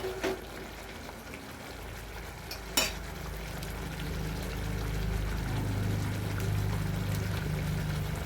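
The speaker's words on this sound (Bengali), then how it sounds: "লবণ দিয়ে দিলাম, এটা হলুদ গুঁড়ো দিয়ে মশলাটাকে যে ভালো করে কষিয়ে নিচ্ছি" Spice paste frying in a pan with salt and turmeric while being stirred: a low, steady sizzle that swells slightly partway through, with a few sharp scrapes and clinks of the stirring utensil, no voices.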